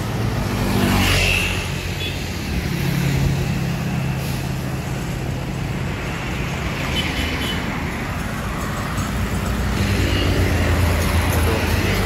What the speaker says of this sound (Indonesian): Ini bus lintas, ini bus Jawa Timur ini.